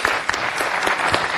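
Applause at a city council meeting as a new commissioner is confirmed after a 13-ayes vote, a dense steady clapping from the chamber audience filling the short moment at full level.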